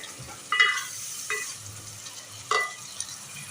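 Beef cooking with tomatoes in a pan for palak gosht, with a low background sizzle broken by three or four louder scraping stirs of a spoon, close and quiet overall.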